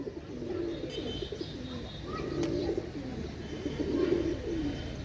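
Several pigeons coo steadily and softly nearby, their low throaty calls overlapping continuously with faint background noise.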